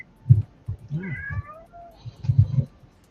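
A cat meows several times in short, close, fairly loud calls, with rising and falling tones, alone and without talk.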